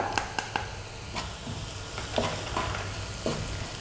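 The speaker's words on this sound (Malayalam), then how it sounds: "ഇഞ്ചിയും വെളുത്തുള്ളിയും പച്ചമുളകും എല്ലാം വഴണ്ടിട്ടുണ്ട് ചെറിയ ഉള്ളി എല്ലാം വഴണ്ടു" Ginger, garlic, green chili and shallots sautéing in a pan, a steady sizzle and frying hiss with intermittent spoon scrapes and taps against the pan, close and fairly loud, no talking.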